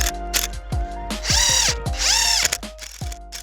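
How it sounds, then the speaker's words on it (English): A drill drives screws into a pocket-hole wood joint held with a clamp, with several short whirring bursts, rising and falling pitch sweeps as the screws seat, and clicking pauses between them, close and clear. "I have my pocket holes, and I'm going to hold this in place with a clamp while I go ahead and screw it together."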